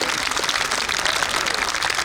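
Audience applause at a Hindi comic poetry gathering (kavi sammelan), a dense, steady wash of many hands clapping close and loud, continuous for about two seconds with no talk.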